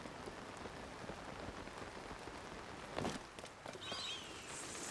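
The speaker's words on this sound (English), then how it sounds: "The amount of rain we're seeing is ridiculous." Heavy in-game rain in Zelda Tears of the Kingdom, a faint steady patter on surfaces with a couple of brief footstep-like knocks and a soft chime near the end.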